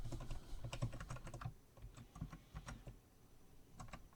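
Quick keystrokes tapped on a computer keyboard while entering a password, a close, quiet run of irregular clicks with short pauses, no voices.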